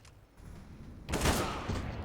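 A sharp sniper rifle shot fired without a scope in a competitive shooter match, a loud burst around the midpoint with a short decaying tail after quieter game ambience.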